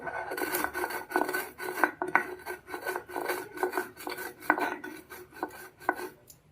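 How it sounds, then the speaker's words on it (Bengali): Cardamom seeds and a pinch of sugar ground on a stone grinding slab, a steady rhythmic rasping scrape repeating back and forth, close and fairly loud, with no talk. "আমি এলাচের দানাগুলোকে একটু বেটে নিলাম"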